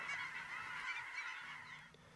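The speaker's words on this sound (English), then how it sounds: "The Willamette Valley is the winter range for thousands of geese and other waterfowl." Geese honk in a continuous overlapping chorus, soft and somewhat distant, with no other sounds, in Oregon's Willamette Valley winter range.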